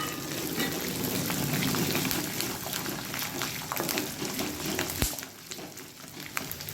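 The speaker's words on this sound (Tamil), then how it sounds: "பூண்டு வந்து ஒரு ரெண்டு கட்டி அளவு நான் உரித்து வச்சுருக்கேன் அதை சேர்த்து இதோட வதக்கிக்கலாம்" Peeled garlic cloves and a small piece of ginger sautéing in a pan for garlic chutney, a continuous crackling sizzle with scattered pops and a stirring knock, steady and close, no voices.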